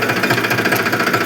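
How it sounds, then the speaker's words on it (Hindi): A farm tractor engine runs steadily and loud up close, a continuous rumbling drone with a fast knocking pulse throughout, no voices over it. "अभी ट्रैक्टर चल गया है"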